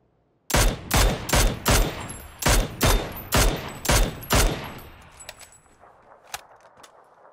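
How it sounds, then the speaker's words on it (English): Gunfire in a video game, about ten loud, evenly spaced shots fired in quick succession, followed by fading echoes and a few scattered distant pops. "What's he shooting at?"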